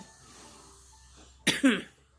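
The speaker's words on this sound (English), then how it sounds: "you can hear me coughing" Two quick, harsh coughs close by, following a stretch of near silence.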